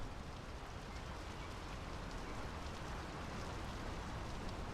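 Rain falls in the video game Draugen as a soft, continuous, even patter with no voices.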